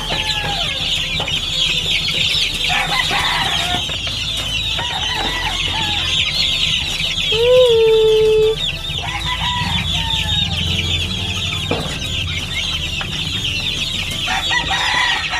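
Fighting chickens raised on a farm cluck steadily while being fed, a busy flock chattering close by, with a rooster crowing loudly once in the middle over background rustling.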